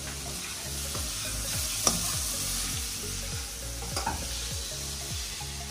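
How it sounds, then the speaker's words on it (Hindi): Shan biryani masala is roasted in a pan, giving a steady, quiet sizzle broken by rhythmic scraping strokes of a spoon stirring about once a second. "अब मैं थोड़ा सा बिरयानी मसाले को भूनूंगी।"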